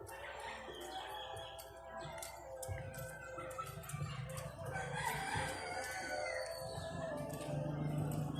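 Chickens at a rural birthday gathering crow and cluck repeatedly nearby, with overlapping calls from several birds over a busy outdoor background.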